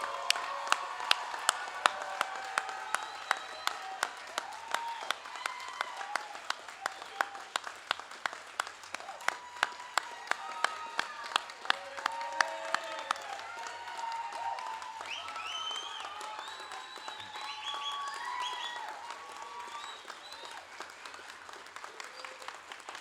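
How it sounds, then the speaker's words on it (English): Audience applause for a graduating US Coast Guard Boatswain's Mate A-school class at a graduation ceremony, steady clapping lasting over twenty seconds with a few sharp claps early on, gradually thinning toward the end, with some faint voices in the crowd. "Would you please join me in a round of applause for the graduates of Bosun's Mate A 2509"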